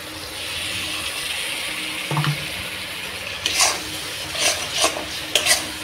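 Tomato paste fries in hot oil as a masala is stirred, a low steady sizzle broken by several bright scraping strokes of the spoon in the second half, close and fairly loud.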